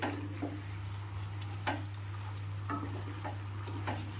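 Chicken curry is stirred in a pan over a low, steady sizzle, with several distinct scraping strokes of a utensil spaced through the clip and no voices.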